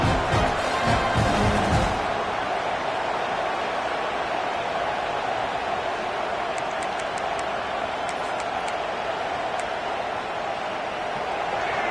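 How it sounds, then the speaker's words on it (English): Stadium crowd at a football game produces a loud, continuous roar, a dense wash of noise that stays steady throughout, with a brief burst of nearer sound at the start. "listen to this crowd noise. This stadium is vibrating."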